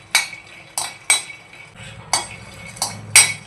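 Peanuts roasting in a pan for green tomato chutney, stirred with a spoon that clinks against the metal in a steady series of sharp scrapes and taps, close and clear with no talk.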